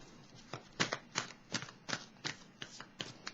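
A deck of tarot cards is shuffled, making a rhythmic series of crisp riffling bursts, about eight quick flutters at a steady pace, close and distinct.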